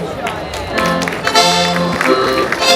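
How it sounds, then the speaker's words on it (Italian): A crowd at an outdoor folk festival claps and cheers briefly, loud and dense, with music or voices mixed underneath. "Noi vi salutiamo con un bellissimo applauso."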